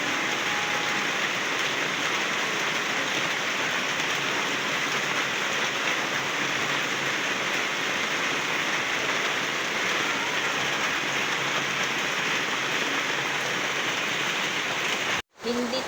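Heavy rain pours steadily during a rainy town fiesta, a loud unbroken hiss filling the air, cut by a brief break near the end.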